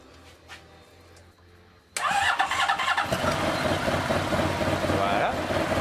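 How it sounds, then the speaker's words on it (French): A Honda VFR 1200 motorcycle engine cranks and catches after a quiet start, then runs loud and steady at close range with a rough, busy idle. No one speaks over it. "on va mettre en route"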